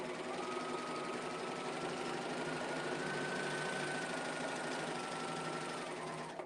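A serger running on three threads stitches a narrow seam, giving a quiet, steady mechanical whir with a fast, even patter that continues unbroken and without any talk.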